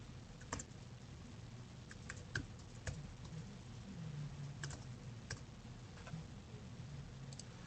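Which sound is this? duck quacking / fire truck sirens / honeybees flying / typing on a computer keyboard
typing on a computer keyboard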